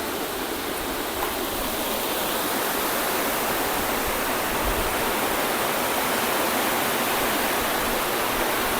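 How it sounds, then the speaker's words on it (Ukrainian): Strong wind roars steadily and loudly throughout, a dense rushing noise with no breaks. "Ох, та вітер дує страшне просто."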